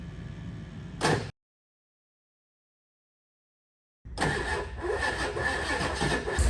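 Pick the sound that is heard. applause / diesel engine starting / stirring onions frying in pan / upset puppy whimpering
diesel engine starting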